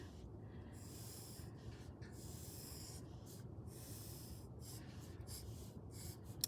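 Pen or pencil lettering in a sketchbook, a soft continuous scratchy rubbing of strokes on paper with brief pauses between letters, quiet and close.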